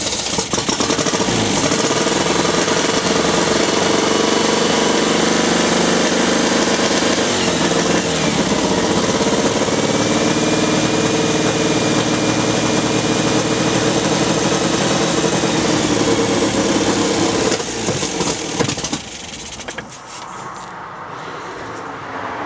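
An MGB sports car engine under restoration, running rough and loud after starting, with a steady clattering, rumbling idle that continues for about eighteen seconds before cutting out.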